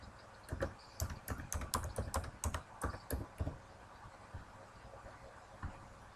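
A password is typed on a computer keyboard: quick bursts of crisp, close key clicks in an uneven rhythm, then a few scattered single taps after a pause.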